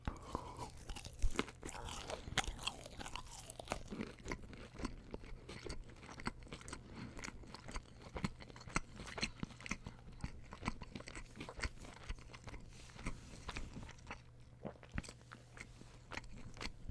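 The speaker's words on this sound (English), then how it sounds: "let me just eat this chicken, bro." Crunchy Wendy's chicken tenders being bitten and chewed up close, with repeated loud crackling crunches and moist chewing in an irregular rhythm and no talking.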